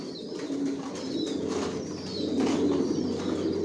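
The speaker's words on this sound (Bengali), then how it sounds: "এখানে যে কবুতরগুলো দেখতেছেন এগুলো স্টকে রাখা, রেস্টে দেওয়া আছে, অরিজিনাল রেসার।" Racing pigeons kept as stock birds in a loft coo steadily and close by, a soft low murmur from several birds that swells slightly toward the end, with no talk.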